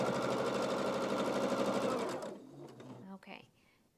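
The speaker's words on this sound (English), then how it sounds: "now I'm gonna sew these units onto either side of the ears" Sewing machine stitching quilt units for a baby bunny quilt, running steadily and loudly for about two seconds before stopping, followed by faint handling noises.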